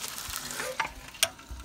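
Corned beef brisket browns in a Dutch oven on a Pit Boss ceramic grill, a soft steady sizzle with a couple of sharp metallic clicks partway through.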